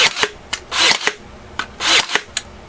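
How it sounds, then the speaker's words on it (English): A Ryobi battery-powered stapler fires in contact mode, giving several sharp, close clacks at an uneven rhythm, separated by short rasping, shuffling handling noises. "Now let's do the contact nailing."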